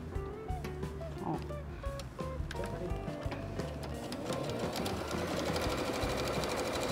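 A domestic sewing machine stitches a seam through fabric with lining, a steady fast mechanical whirring of needle strokes that runs continuously and close, with brief pauses and speed changes.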